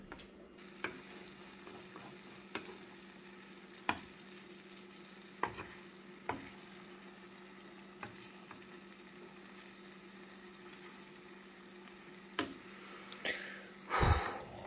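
Hot oil in a pan, with potatoes boiling nearby, gives a steady, quiet sizzle. Sharp spatter pops cut through it at irregular moments, and a louder burst of crackling comes near the end. No one speaks.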